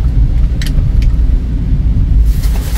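Riding inside a moving vehicle: a steady, loud low rumble of road and engine noise fills the cabin throughout, with a couple of faint clicks or rattles and a brief brighter wash near the end.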